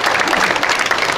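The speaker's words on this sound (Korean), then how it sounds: "박수로 맞으시면 대단히 고맙겠습니다." A crowd at a memorial ceremony in a memorial hall claps steadily and fairly loudly in a brief, dense burst of applause.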